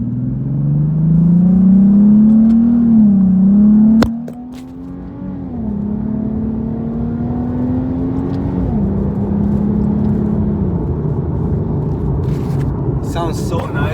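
A Nissan 370Z with a Remark axle-back exhaust drones with a low, steady hum from inside the cabin, the engine note rising and falling gently as it cruises, with brief talk at moments.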